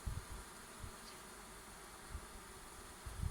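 A honey bee swarm clustered around its queen at an old hive, a steady close buzzing hum throughout with a few low thumps from handling.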